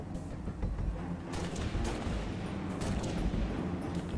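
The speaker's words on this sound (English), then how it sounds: "Just keep shooting" Rapid continuous gunfire from the Halo Reach campaign, dense bursts of automatic weapon shots and booming impacts, loud and unbroken with no talk over it.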